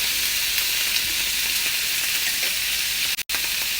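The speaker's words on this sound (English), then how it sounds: "Then we're going to fry a little bit the tomatoes." Tomatoes frying in a pan with eggplant and potato cooking nearby give off a loud, continuous close-up sizzle and hiss, broken by one brief dropout near the end.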